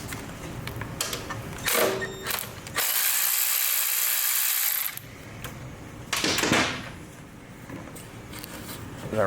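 A ratchet fitted with a shallow 10 mm socket loosens hardware on a brand-new EFI generator, giving bursts of close metallic clicking and clattering handling noise, with a longer, louder stretch of grinding rattle in the middle.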